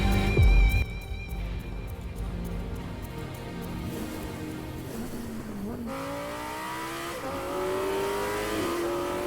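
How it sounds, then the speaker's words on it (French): Car engines from an MF Ghost anime trailer, a street-racing series, rev and accelerate continuously with rising gear-shift whines and brief tire squeal, loud and close over a music-like backdrop, with no talking. "c'est des bruits de voiture"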